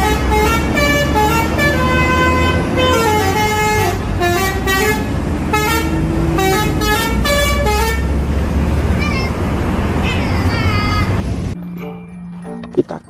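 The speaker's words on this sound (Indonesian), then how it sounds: "Kali ini ada bus Dewi Sri teman-teman." A Dewi Sri bus passes close by, its melodic multi-tone horn playing a long, loud tune over engine rumble before the vehicle fades away.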